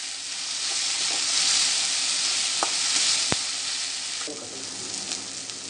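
Chopped tomatoes fry in a pan for an egg curry, a loud, dense sizzling hiss close up, with a few light clicks of a spoon stirring against the pan.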